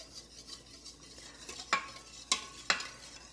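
Half and half being stirred into creamy cheese grits in an Instant Pot, a quiet scrape and swish with a few sharper spoon strikes against the pot toward the end.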